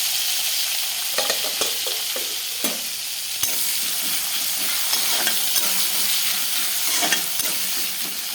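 Whole white cumin and onion frying in hot oil, a continuous close sizzle and hiss broken by several sharp clinks and scrapes of stirring, with no talking.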